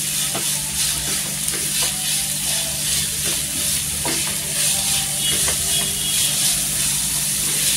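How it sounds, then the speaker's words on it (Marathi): Grated potato sautéing in oil in a pan for a fasting-day potato dish gives a steady, close sizzle, with soft scrapes of stirring recurring through it and no talk. "आता इथे आपण या पॅन मध्ये आहे ना चांगलं असं परतून घ्यायचा तेलावर"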